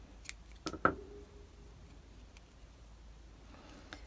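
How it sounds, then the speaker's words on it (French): Scissors cut crochet yarn on a two-tone crocheted flower, two or three quick, quiet snips early on, then near silence with faint handling noise. "Une maille en l'air supplémentaire et je peux couper le fil."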